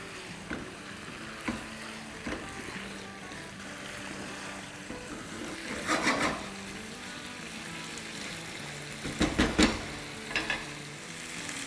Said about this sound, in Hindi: और अब दही के साथ भूनेंगे।